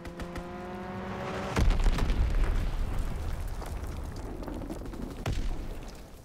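Enemy bomb explosions in Call of Duty: WWII, a heavy boom followed by rumbling debris and a second blast a few seconds later, loud and near, over a low battlefield drone.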